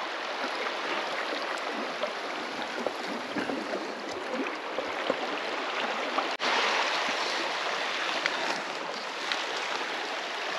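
River water rushes at a river crossing in Lapland, a loud, continuous broadband flow close by that fills the scene without a pause and with no talking.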